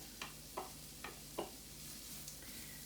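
Minced shallot sizzles softly in melted butter for chicken liver mousse, a faint steady fry with a few brief clicks of a spoon against the pan, no talking.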